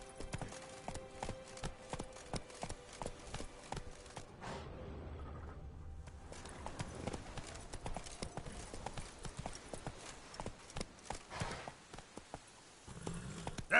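Roach, the horse in The Witcher 3, gallops in a rapid, rhythmic clip-clop of hooves that runs through most of the scene, moderately loud, with a brief softer stretch midway and no talk.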